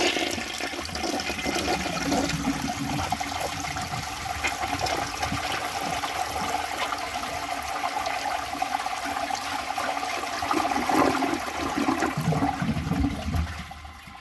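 A 1964 Gerber Mt Vernon toilet flushing, a loud continuous rush of water that holds steady for about thirteen seconds, then drops into quieter refilling at the end.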